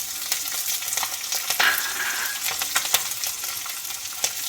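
Green chillies frying in a pan of hot oil while making an egg and tomato thoran, a soft steady sizzle with occasional crackles and sharp pops, close and moderately quiet.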